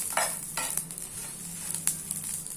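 Cumin seeds and coconut dry roasting in a pan, with a soft continuous sizzle and a few quick scraping strokes of a spatula, close and alone without talk.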